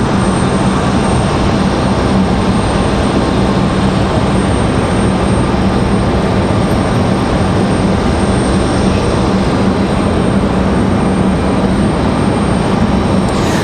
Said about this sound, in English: FedEx is going to have to taxi on the upper route here